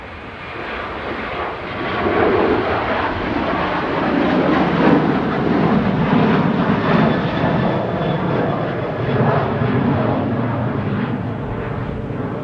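Ryanair airliner departing Manchester Airport for Billund, its engines a loud, steady broadband roar that swells slightly and holds throughout.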